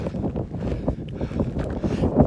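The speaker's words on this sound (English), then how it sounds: "it's so windy, I'm not even sure I could set my tent up" Steady, loud desert wind on the Pacific Crest Trail buffets the microphone with a low rumbling roar that gusts and swells throughout.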